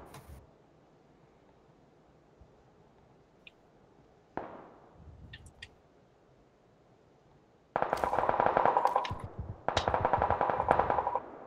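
Automatic gunfire in a shooter video game: quiet stretches with a few isolated shots and clicks, then two loud sustained bursts of rapid fire near the end.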